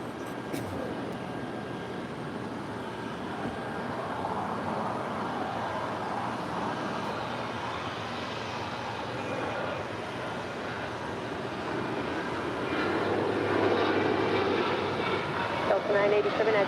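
A Delta Airlines Boeing 737-800 from Indianapolis at LAX, its jet engines a steady broad roar that swells slightly near the end, heard with voices talking over it.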